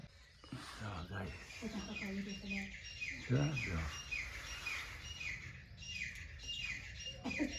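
Common myna calls and chirps rise repeatedly near a farm field sown with mustard, mixed with other bird twitters under steady conversation and background noise.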